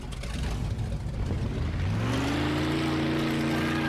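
In the video game Mafia 2, a hot rod car engine drones steadily, then rises in pitch as it accelerates and revs, loud and close with no talk over it.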